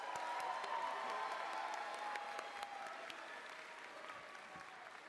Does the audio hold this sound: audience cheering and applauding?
yes